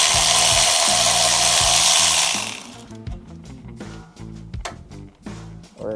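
A hand ratchet works on the brake caliper bolts of a first-generation Toyota Tacoma during a straight axle swap. A loud continuous whir comes first, then bursts of close metallic clicking.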